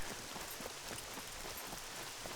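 Steady rain falls in the survival video game Scum as a quiet, even hiss of drops on surfaces, with no voices.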